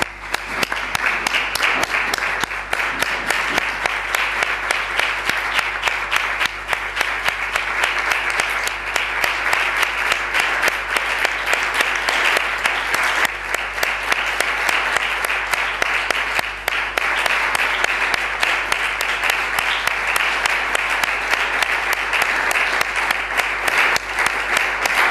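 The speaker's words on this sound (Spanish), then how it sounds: "Yo creo que podíamos hacer una ovación cariñosa." A warm, sustained ovation from a gathered crowd in Andújar, Spain, with dense continuous clapping at a steady level that carries on without pause for a long stretch.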